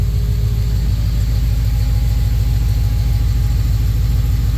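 A Holden VK Brock car engine idles at roughly 700 rpm, a steady low rumbling drone with an even pulsing beat, close and continuous with no talking.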